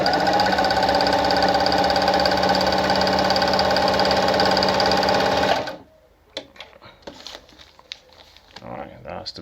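A Pfaff model 9 sewing machine runs loud and steady for about five and a half seconds, then stops abruptly, leaving quiet handling clicks and rustles, with speech also detected.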